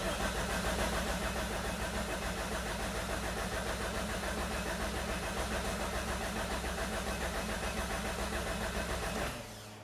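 A 1998 Toyota engine with its injectors unplugged cranks over on the starter without firing, a fast steady rhythmic churning that runs loud and close for nearly ten seconds before stopping abruptly at the end.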